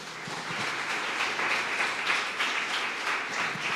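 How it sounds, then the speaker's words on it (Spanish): A church congregation applauds steadily after a pastor's sermon call, dense clapping from many hands filling the room at an even level throughout, with no voices over it. "si tú quieres tu Efraín, dale un aplauso a Dios"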